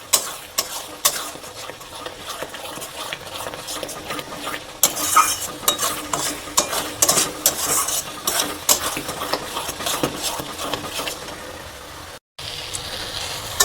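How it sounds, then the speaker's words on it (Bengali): Spice paste for chicken curry being stirred and fried in oil, with a utensil scraping and clinking against the pan over a steady sizzle, continuous and close, briefly cutting out near the end. "মশলাটা যতক্ষণ না তেল ছাড়ছে ততক্ষণ পর্যন্ত মশলাটা আমি কষাতে থাকবো।"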